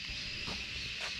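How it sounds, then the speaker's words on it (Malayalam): Crickets chirp in a forest in the high ranges of Munnar, a quiet, continuous high shimmer over faint background hiss. "ഇവിടെ മൊത്തം ഫോറസ്റ്റിൻ്റെ ആ ഒരു ചീവീട് കരയുന്നത് സൗണ്ട് മാത്രം."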